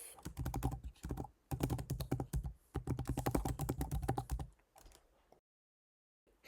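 Steady bursts of rapid keystrokes on a computer keyboard, close and crisp, in three clusters separated by brief pauses, then a spell of silence.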